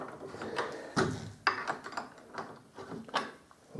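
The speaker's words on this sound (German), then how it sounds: "die Schraube muss ich noch anziehen" A drum tension screw being tightened on a bass drum or snare during tuning, heard as a short run of close, dry ratcheting clicks and creaks in uneven bursts, with no talking.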